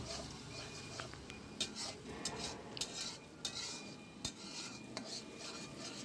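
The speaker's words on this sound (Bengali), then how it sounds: "ডিম দুটো দিয়ে নেড়ে চেড়ে আমি ভালো করে কষিয়ে নেব" A utensil scrapes and taps against a pan in an irregular stirring rhythm as eggs cook, with a faint sizzle underneath.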